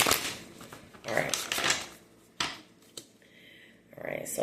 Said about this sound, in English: Just going to give these a quick shuffle.